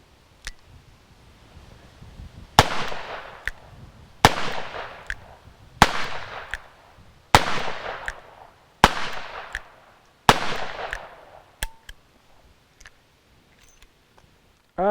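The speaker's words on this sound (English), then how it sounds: "This is the last 6 that I'm shooting" Old, neglected ammunition cartridges fired one after another, about six sharp, loud reports at a steady interval of roughly one and a half seconds, each with a ringing decay, and faint clicks between them.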